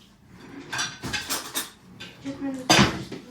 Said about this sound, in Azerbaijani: Qaşıq gətir